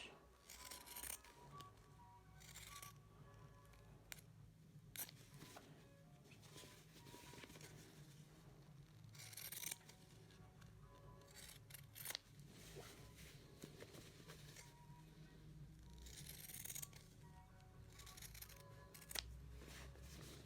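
Pinking shears snip off the corners of cloth mask fabric, a series of crisp, close cuts and light fabric rustles repeating through the stretch over a low steady background hum, with no talking.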